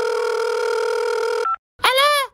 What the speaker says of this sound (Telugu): ఫోన్ చేసి రమ్మని పిలుద్దాం.